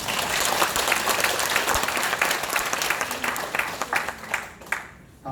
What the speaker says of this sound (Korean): 우리에게 은혜로운 말씀 전해주신 최성규 원로 목사님께 다시 한번 감사의 박수를 부탁드립니다